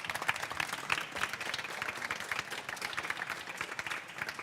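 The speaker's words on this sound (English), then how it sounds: "give a round of applause to them all" Audience at a science conference session applauding the panelists, steady crowd clapping held at a moderate, slightly distant level throughout.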